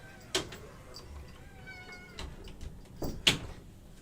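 A cat meows a few times close by, short sharp calls with scattered knocks and thuds around them.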